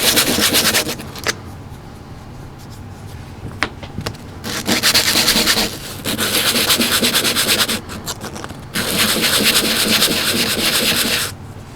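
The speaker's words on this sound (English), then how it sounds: "We'll sand them a little bit first." Wooden windmill parts, including gears, are sanded by hand in loud, close bursts of scratchy rubbing separated by short pauses.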